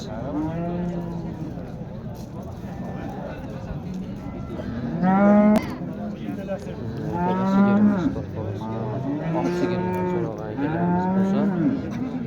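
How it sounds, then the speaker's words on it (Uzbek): Several cows moo repeatedly, loud and close, their long low calls overlapping one another with no talk in between. "Mana akalar sigirlarimiz."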